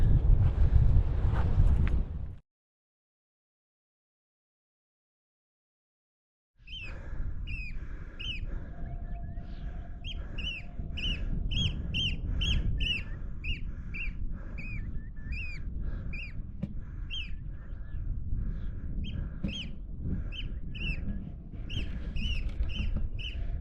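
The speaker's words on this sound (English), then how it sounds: "That bird making all the noise, I'm pretty sure is an oyster catcher" Repeated sharp, piping alarm calls from an oystercatcher near its nest ring out in a rapid, insistent series against wind noise on a hillside above Weardale, after a brief pause in sound.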